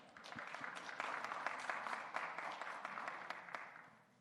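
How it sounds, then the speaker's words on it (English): At a boxing weigh-in for Garcia vs Campbell, the crowd applauds Oscar De La Hoya. Quiet, somewhat distant clapping rises and holds for a few seconds with sharp individual claps standing out, then fades at the close. "please welcome a big round of applause for the champ himself"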